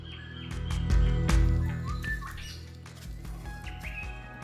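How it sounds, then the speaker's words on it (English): Several birds chirp and call in tropical rainforest in Iron Range National Park, Cape York, in short scattered tweets over a low steady hum, with a few louder calls close by. "I saw and heard plenty of birds, but the rifle bird eluded me."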